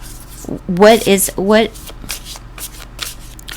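Tarot cards are shuffled in a few quick riffling bursts, crisp and close, after which a voice talks softly.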